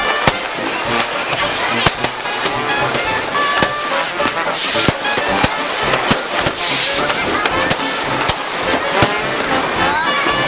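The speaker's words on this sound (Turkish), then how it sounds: "Saatler 24'ü gösterdiğinde Viyana'nın semaları havai fişeklerle kaplandı." Dense New Year's midnight fireworks explode continuously across Vienna, a rapid barrage of sharp pops and crackles, some near and loud, others distant, with crowd noise underneath.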